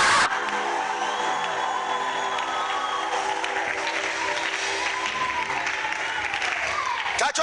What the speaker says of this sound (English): If you are clapping, do it better.